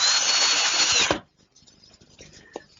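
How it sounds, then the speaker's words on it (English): A power drill drives screws into MDF blocks: one loud, sustained whir for about a second, then it stops, leaving quiet shop noise and a brief clack. "All right, a few screws to hold it together."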